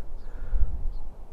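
A crow gives two short, faint caws in open countryside at an airfield, heard through low wind rumble.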